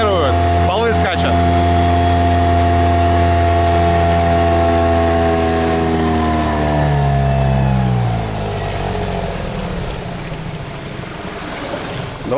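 A Chinese outboard motor being run in on a boat at about 23 km/h holds a loud, steady tonal drone, then winds down and fades after about eight seconds.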